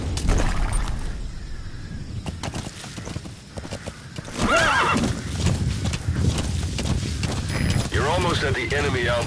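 Horse hooves clip-clop in a steady rhythm while a horse neighs and whinnies loudly near the end, in the wilderness of a PS4 game, with bird calls and game sounds around.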